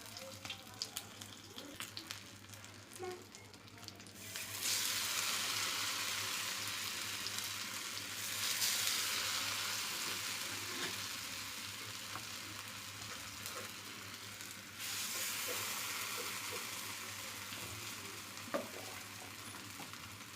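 Soaked raw banana pieces fry in oil, giving a steady close hiss that surges louder as more pieces go in and settles into continuous sizzling with light crackles and occasional clinks.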